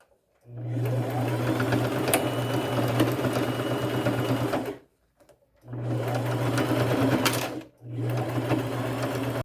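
Sewing machine running with gold thread, stitching a denim strip onto the side of a jean skirt: a loud, steady whirring hum in two long bursts with a brief pause between them, no talking.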